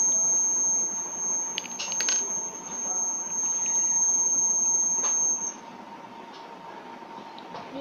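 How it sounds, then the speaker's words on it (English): A high, steady electronic buzzer tone from a homemade laser security alarm sounds continuously for several seconds, then cuts off, leaving a lower background hum. "and the buzzer is on."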